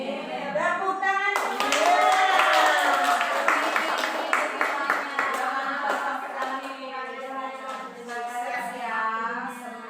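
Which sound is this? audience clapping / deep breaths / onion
audience clapping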